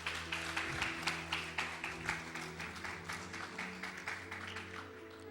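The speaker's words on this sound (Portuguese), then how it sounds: "Aplauda o Senhor." A church congregation claps along, a rhythmic, fairly faint beat of many hands over sustained worship music.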